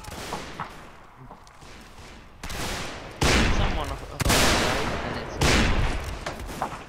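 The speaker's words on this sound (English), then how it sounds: "Keep firing, boys!" Repeated musket volleys from soldiers firing in Mount & Blade Warband, loud overlapping bursts of gunfire rolling in several waves, with faint shouting between shots.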